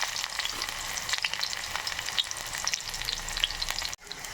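Fresh wet onion fries in about one and a half ladles of oil for a mutton dish, producing a dense, continuous crackling sizzle close up that cuts off abruptly near the end.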